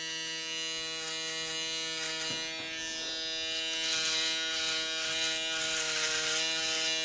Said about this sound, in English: my foil shaver will take off the rest